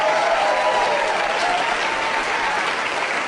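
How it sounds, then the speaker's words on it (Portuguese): Congregation applause during a church sermon, a loud, continuous roar of clapping from a large crowd, steady throughout, with a faint voice rising briefly at the start. "Vamos, eu quero um grande aplauso para isso."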